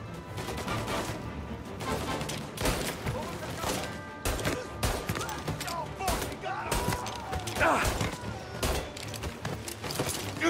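Bursts of gunfire from the video game Mafia: Definitive Edition, rapid overlapping shots and crashes, loud and near, with someone talking over parts of it.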